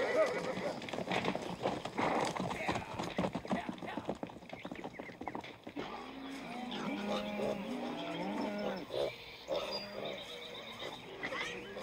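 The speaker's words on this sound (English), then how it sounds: "Let's go gather horses before they scatter." Horses being rounded up on an open range, with rapid hoofbeats and a clatter of movement at first, then a horse's whinny and lighter trampling, mixed with voices and other outdoor noise.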